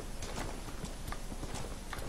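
Donkey hooves clip-clopping in the Red Dead Redemption video game, a steady, fairly close run of hoof beats over a continuous background bed, with no talk.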